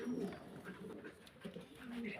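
Black Mundian running pigeons cooing at a pigeon farm, low soft coos near the start and again near the end over a murmur of background noise and voices.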